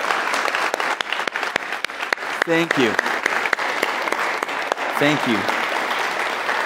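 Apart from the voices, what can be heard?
audience applauding social workers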